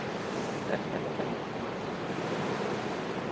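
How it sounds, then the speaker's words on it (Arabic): Sea waves wash continuously along the shore, a broad steady rush of surf mixed with wind buffeting the microphone, with no distinct breaks between swells. "هذا البحر، هذا البحر، هذا البحر."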